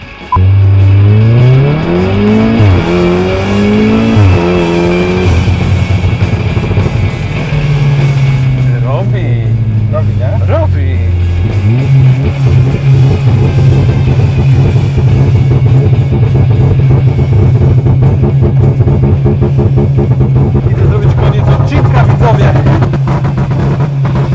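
A tuned VW Golf VII R launches hard from a standstill, its engine climbing loudly in pitch through several gears with clear shift breaks, then settling into a strong, steady roar.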